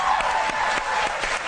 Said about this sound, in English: again, let's applaud the David Beckham ad